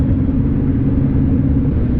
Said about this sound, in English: The exhaust note could be a little bit louder.